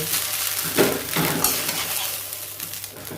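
Rice vermicelli noodles are stir-fried in a wok, a spatula scraping and tossing them in short bursts over a soft, steady sizzle, close up with no talk.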